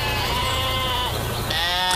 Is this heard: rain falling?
no